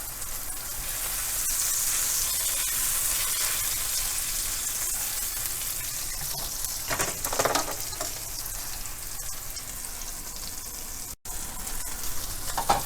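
Mushrooms browning in a frying pan hiss with a continuous, even sizzle, and a few louder spluttering bursts rise midway before the steady frying settles again.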